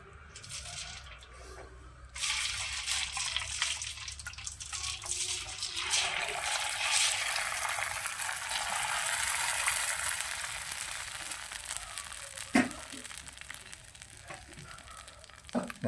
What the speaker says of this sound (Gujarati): હવે આપણે એમને પાણીમાં નાખી દેવાનું છે.